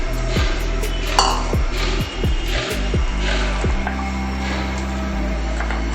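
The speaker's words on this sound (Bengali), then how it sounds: "একটা বড় বাটিতে ঢেলে নিলাম।" Ingredients for a soybean muitha dish tipped into a large bowl, with a few close clinks and knocks of a spoon and dishes against the bowl over a soft continuous background hum.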